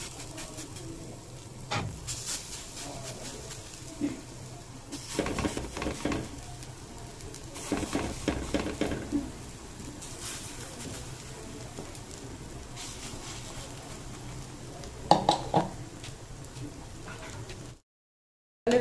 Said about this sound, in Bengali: এখন বড়া ভেজে নেবো একইভাবে।